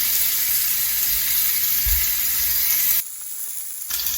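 A steak sears on a very hot grill alongside peppercorns and a rosemary sprig, giving a loud, steady, close sizzle that drops away briefly near the end before resuming.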